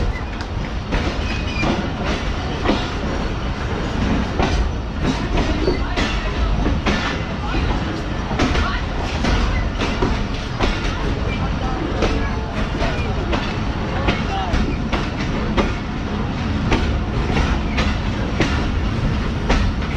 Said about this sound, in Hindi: ट्रेन हमारे निकल रही है कानपुर जंक्शन रेलवे स्टेशन से